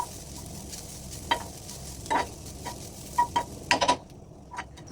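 Grated coconut and curry leaves sautéing in a pan over medium flame, a soft low sizzle broken by a handful of sharp spoon scrapes and taps against the pan, close and alone.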